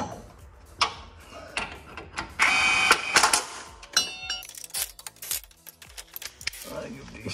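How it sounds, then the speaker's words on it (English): Bolts being tightened on the motor of a John Deere LA115 riding mower, heard as repeated close metallic clicks, ratcheting and clanks that come in bursts over the whole stretch. "I give these bolts a good tight here."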